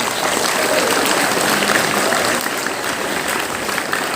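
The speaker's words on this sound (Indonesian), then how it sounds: "Tepuk tangan untuk kawan-kawan kita." Loud, sustained applause from an audience at an Independence Day ceremony at an Islamic boarding school, a dense continuous roar of clapping close by.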